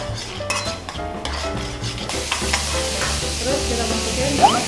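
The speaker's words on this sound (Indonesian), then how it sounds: "Tumis-tumis-tumis sampai wangi." Garlic sautéing in a pan, with scraping stirs and clinks of a utensil against the pan over a steady sizzle, close and with no talk.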